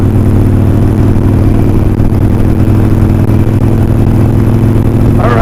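A Harley-Davidson Iron 1200 motorcycle engine running steadily, a loud, close, deep rumbling drone that holds even for the whole stretch, with no voices.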